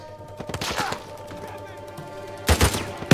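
Copperhead rifle gunfire in Uncharted 4, with scattered single shots and short bursts, a busy firefight rumble beneath, and a louder cluster of shots near the end.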